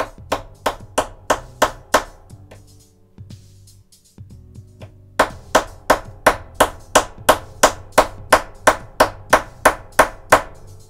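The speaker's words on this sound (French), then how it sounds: "il va falloir taper au marteau pour venir enfoncer ça correctement" Small precision hammer tapping parts of a Leopard 2A6 tank scale model into place: a run of sharp, evenly spaced taps, a brief quieter pause with softer knocks, then another longer regular series of crisp close strikes.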